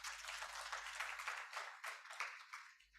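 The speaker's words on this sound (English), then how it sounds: "Clap for her." An audience at a formal commemoration event claps in a short, fairly close round of applause, individual claps distinct and uneven, with no talking.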